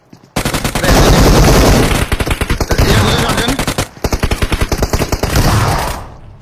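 Rapid continuous gunfire from an online shooter game, a dense loud stream of shots lasting several seconds with a short break partway, under excited players' chatter.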